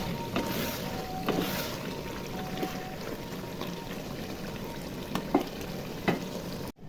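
Beef frying in a pan for a spiced bhuna, a steady close sizzle with occasional scraping clicks from the stirring spoon, moderately quiet and without talk.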